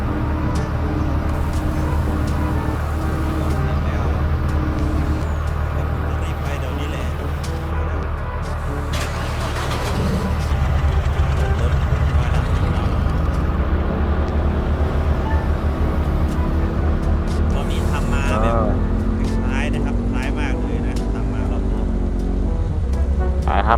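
A tractor engine in Farming Simulator 19, droning steadily with a low rumble that shifts pitch midway, under someone talking throughout.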